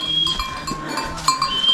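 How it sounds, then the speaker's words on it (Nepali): Pack horses or mules pass along a forested Nepali trekking trail, with clip-clops and rattling bells sounding close and brief amid faint outdoor ambience. "घोडा आयो, के हो खचड है"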